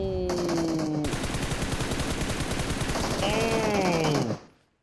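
Rapid automatic gunfire in a competitive tournament shooter match, dense continuous bursts of shots that run for about four seconds before cutting off abruptly, with faint tonal game effects layered in.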